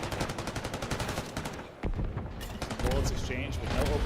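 Gunfire in a Call of Duty competitive match, rapid automatic bursts crackling over a dense game mix, with a heavier sustained stretch near the end and a commentator talking over it.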